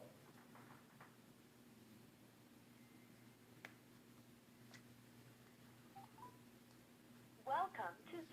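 Phone keypad tones are faint and scattered over a low, steady line hum, with a quick cluster of beeps near the end.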